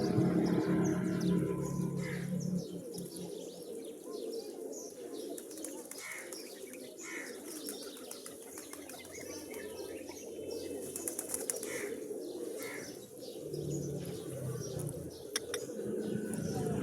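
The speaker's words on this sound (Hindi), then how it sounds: "माशाल्लाह हर वैरायटी का कबूतर शामिल है इसमें" Pigeons of many varieties cooing softly and flapping their wings nearby, with scattered chirps over a steady outdoor hum.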